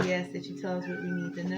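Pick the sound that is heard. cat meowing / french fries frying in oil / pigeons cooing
cat meowing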